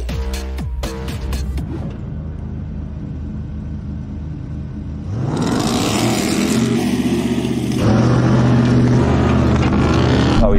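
A Hennessey Mammoth and a Hummer H2 race off-road, their engines roaring loud and close, the revs climbing and surging as the trucks accelerate hard, with a steady rumbling drone throughout.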